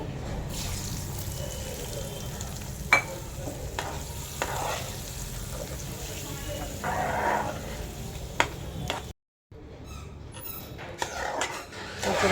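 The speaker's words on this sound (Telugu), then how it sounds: "ఇప్పుడు ఈ తాలింపు దీంట్లో వేసుకుందామండి" Hot tempering stirred into a pumpkin and ginger chutney, a steady close scraping and mixing with a low sizzle underneath, broken by a brief silent gap before the stirring resumes.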